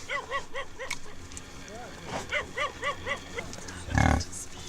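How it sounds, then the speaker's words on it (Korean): A mother yak calls repeatedly around a ger at night in the Mongolian taiga, a rhythmic series of short grunting bellows, fairly close, with a louder thump near the end. "야크 어미는 밤새 게르 주변을 돌며 소리를 질렀다."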